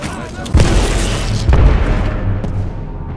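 A grenade explodes in the Titanfall 2 shooter game, a loud deep boom at about half a second followed by a second blast, with rumbling battle noise and game voice chatter running underneath.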